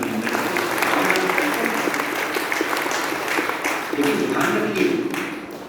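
Audience at a Brahma Kumaris spiritual talk clapping steadily, a dense sustained round of applause throughout with voices mixed in.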